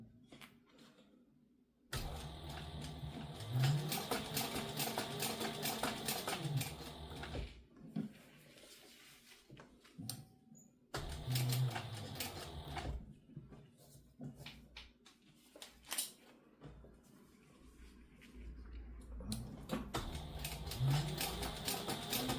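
A sewing machine top stitches a satchel handbag in bursts of steady mechanical whirring, stopping and restarting several times, with quiet pauses between runs.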